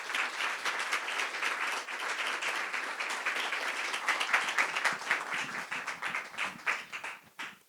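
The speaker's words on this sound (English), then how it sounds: "I would like you all to sort of welcome him with a nice round of applause" Concert audience at a classical music evening gives a warm round of applause welcoming the conductor to the podium, dense clapping that stays steady before loosening into scattered claps and dying away.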